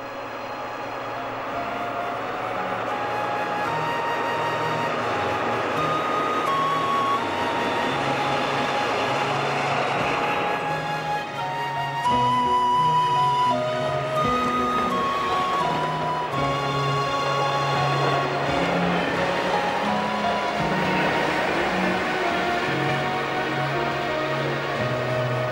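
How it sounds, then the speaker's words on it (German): A diesel train departs Klosterfelde heading back toward Berlin, its loud, steady rumble and rolling wheel noise running continuously close by with no talking. "Nach kurzem Aufenthalt ist der Zug auf dem Rückweg nach Berlin."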